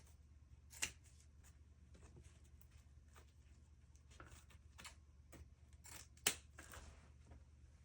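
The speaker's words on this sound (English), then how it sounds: "you're going to take some scissors and you're just going to ducktail" Scissors snip the ends of a velvet ribbon into a ducktail, two crisp close cuts standing out among faint rustling and light handling noises in a quiet room.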